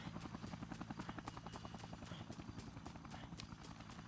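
Rotor blades of a helicopter in the game Dead Rising thump in a fast, even rhythm, a continuous low chopping pulse that holds fairly steady throughout.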